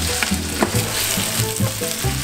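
Food frying in a skillet for a garbanzos guachinche-style dish, a loud, close, crackling sizzle with scattered pops and stirring knocks, heard alone.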